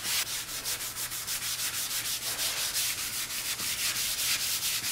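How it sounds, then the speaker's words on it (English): Wood samples being hand sanded in a steady rhythm of back-and-forth rasping strokes, close and continuous with a soft hiss, before a ceruse finish is applied; no one talks. "We're doing the same amount of sanding on each one of our samples"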